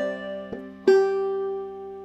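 Clawhammer banjo plays the opening measure of Snowdrop using a skip stroke: a soft plucked note, then a brighter fifth-string note that rings out and slowly fades, played alone and close.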